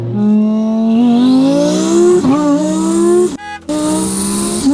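A 1,600 wheel horsepower car accelerates hard, its engine note climbing loud and steady through the rev range, briefly cutting at a gear change before pulling on again.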